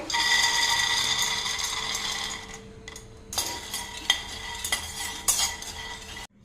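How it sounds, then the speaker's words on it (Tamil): Peanuts dry-roast in a pan while being stirred, with a dense rattling, scraping clatter of nuts against metal that thins into scattered clinks and knocks. "இந்த வேர்க்கடலையும் நம்ம ஹை ஃப்ளேம்லேயும் லோ ஃப்ளேம்லேயும் மாற்றி மாற்றி வச்சு வறுத்துக்கலாங்க"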